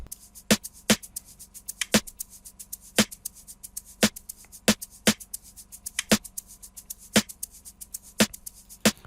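An Amapiano beat intro pairs a steady shaker with crisp, evenly spaced percussive clicks, a quiet and dry loop repeating in a tight groove.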